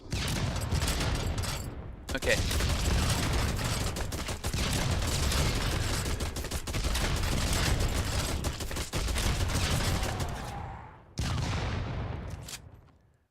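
Dense bursts of video game gunfire from a Trifire pistol and booming explosions, loud and nearly continuous with short gaps, a voice briefly speaking.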